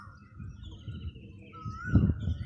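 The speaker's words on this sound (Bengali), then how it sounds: "বাইরে পাখির ডাক।" Morning birdsong outdoors near a tamarind tree, a few thin whistled calls drifting at a distance, faint over low background noise, with one clearer rising note near the end.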